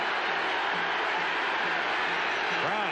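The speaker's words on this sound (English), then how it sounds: "Crowd chanting." A football stadium crowd at a 1979 Raiders at Saints game makes a dense, constant roar with rhythmic chanting, heard from a distance, while a voice briefly rises over it near the end.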